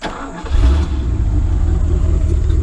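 An old car with a 400 engine and no muffler fires up, then settles into a loud, raw, rumbling run close to the listener.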